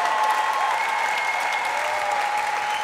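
Steady, sustained audience applause fills a TV show studio after the winners of a synchronized high-diving competition are announced, loud and continuous without pause.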